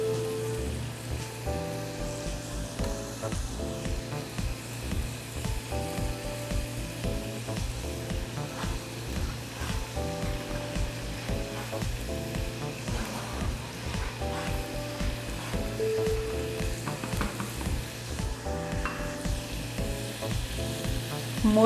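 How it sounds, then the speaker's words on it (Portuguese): Bacon sizzling in a frying pan, a steady crackling hiss with scattered pops, continuous and fairly close, with faint background music and no speech. "Enquanto isso, o bacon tá fritando, tá?"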